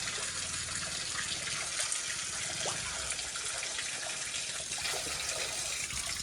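Water runs steadily from a cow-mouth spout at a roadside spring near Telegaon, a continuous splashing flow heard close and without talk.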